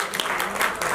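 Audience applause at the launch of the 'Ae Zindagi Gale Laga Le' show with Suresh Wadkar and Kumarr, a dense steady burst of many hands clapping that fills the whole moment at moderate loudness.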